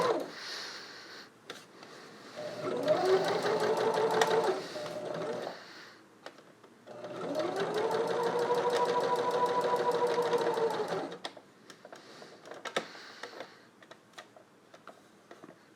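Sewing machine stitching a Spider-Man test mask in two bursts of rapid, even mechanical whirring, about three seconds and then about four seconds long, with light clicks and handling noises between and after the runs.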